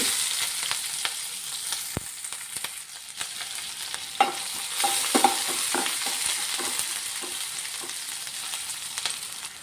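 Mustard seeds, chana dal, urad dal, green chili and onion frying in hot oil for a capsicum palya, a steady close sizzle with scattered pops and crackles and a few louder spatters midway.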